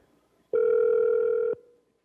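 A single telephone ringing tone from a recorded phone call, a steady electronic beep lasting about a second, clear and alone with nothing else around it.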